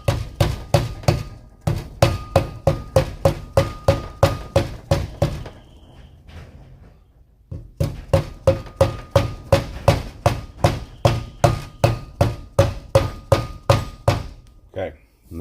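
A small hammer taps a greased bearing seal flush into place on a 1968 C10 crossmember. The blows are quick and regular in two long runs, separated by a short quieter pause.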